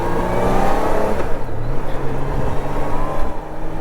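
Engine drone of a 1997 Honda Goldwing GL1500SE motorcycle, a roughly 100-horsepower 1500, heard while riding around a curve: a steady, loud low rumble with wind noise and slight swells in revs.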